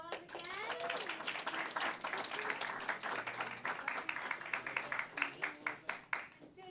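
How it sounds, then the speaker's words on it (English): Audience applause at a school board meeting, quiet scattered clapping that thins into a few distinct claps near the end, with voices, including a child's, talking over it. "big round of applause again"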